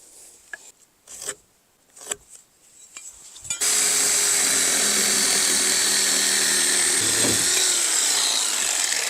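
A saw cuts through OSB sheathing on an 8x12 shed. A few short knocks come first, then a loud, continuous rasping cut runs close and unbroken for several seconds before dropping off.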